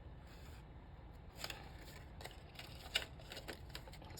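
Scissors snipping a thin acetate sheet for a bookmark, quiet close-up cuts in a few soft crisp bursts over faint room hiss, no talking.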